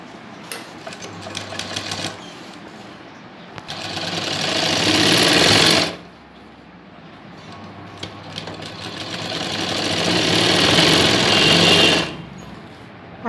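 A sewing machine stitches a blouse seam in two long, loud runs of rapid mechanical chatter that gradually speed up, each ending abruptly, with quieter slow stitching before the first run and no talking.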